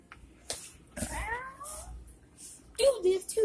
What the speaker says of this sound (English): I see cat.